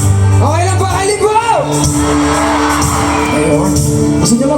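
Concert audience at a live show in Kalibo shouting and whooping loudly, a continuous roar of voices with rising yells throughout, close and dense.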